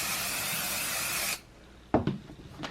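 A short, steady hiss of spray lands on shirt fabric stretched in an embroidery hoop, close and fairly loud, then cuts off abruptly, followed by a few soft handling knocks.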